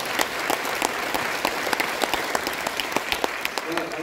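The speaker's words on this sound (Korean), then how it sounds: "박수 한번 주십시오." A lecture audience claps together in a steady, dense round of applause, loud and even throughout the short stretch with no voices over it.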